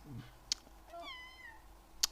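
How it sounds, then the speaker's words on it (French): A house cat meows once, near and fairly quiet, with a rising then falling cry in a calm room, plus two short sharp clicks around it. "j'ai mon chat qui est en train de monter sur le clavier"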